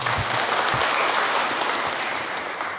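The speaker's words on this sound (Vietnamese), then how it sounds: "xin cộng đoàn chúng ta chào đón cha một tràng pháo tay" A parish congregation at Trù Mật church applauds to welcome the new assistant priest, Giuse Nguyễn Đức Tùng: a full, steady round of clapping filling the space, slightly tapering at the end, with no talk over it.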